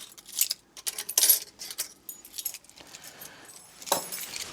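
Keys jangle and clink in short bursts as someone sorts through a bunch to find the right one before checking a rented property, close and fairly soft with quiet gaps between.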